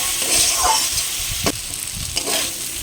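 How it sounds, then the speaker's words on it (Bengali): Washed lentils frying with fried potato on low flame in a pan for sabu khichuri, a steady close sizzle broken by a few scraping stirs of a spatula, with no talk. "মিনিট 2 লো ফ্লেমে ভেজে নিয়েছি"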